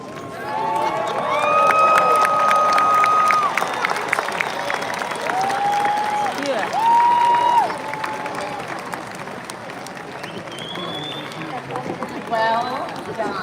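A college graduation crowd at a science and engineering commencement cheering and clapping, with loud sustained whoops and shouts rising over steady applause, then easing to scattered yells.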